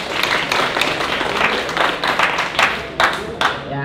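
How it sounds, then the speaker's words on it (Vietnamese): An audience claps at a Harley-Davidson Saigon Sunday coffee and shoptalk event, a dense, steady patter of many hands lasting several seconds, with a few louder bursts toward the end. "Anh em cho chị vỗ tay nha."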